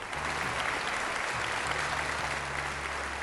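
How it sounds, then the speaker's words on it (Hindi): A crowd in a royal court applauds, dense, continuous clapping filling the scene evenly at a steady loudness, with a low background hum beneath it. "दरबार में हर कोई उनका समर्थन करता है और तालियां गूंज उठती हैं"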